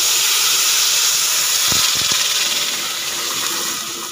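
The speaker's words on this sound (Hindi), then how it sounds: "क्योंकि मैंने अच्छे तरीके से भुने थे, इसलिए पानी डालते वक्त इतनी आवाज़ आई है इसकी।" Water poured into a hot pan of well-fried rice and onions sets off a loud, steady steam hiss that fills the whole stretch, with a few sharper sputters near the middle.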